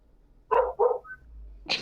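A dog barks nearby: two quick barks, then a third a moment later, fairly loud against a quiet background.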